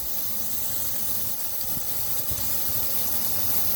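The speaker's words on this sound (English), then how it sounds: "Now we're just going to sear the two ends." The ends of a steak sear in a hot pan for steak sandwiches, giving a steady close hiss and sizzle with a few faint knocks.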